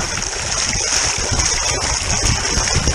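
Warm, fresh water flowing from a geyser at a sandy outdoor site after a frosty morning, a steady broadband rush and splash held close and even throughout, with no talk.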